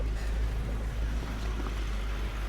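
The engine of a 1993 Land Rover Defender 110 idles smoothly, a deep steady rumble heard close with a constant low throb and no talking.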